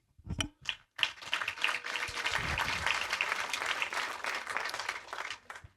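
A plenary audience at a charity members' annual event in Cambodia breaks into a full round of applause after a couple of brief opening claps, the dense clapping holding steady and loud for several seconds.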